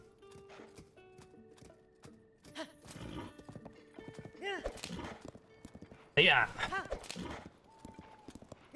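Horse hooves clip-clop in a Zelda game, Tears of the Kingdom, in quick irregular bursts alongside a whinny, while a person talks briefly over the game sounds.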